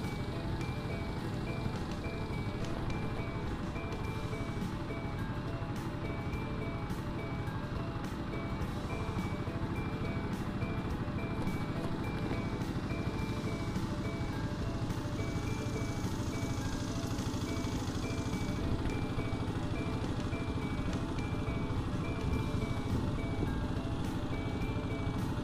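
A diesel engine runs steadily on a truck powering a crop sprayer for onion plants, a constant loud drone with a repeating tonal whine throughout, no talk over it.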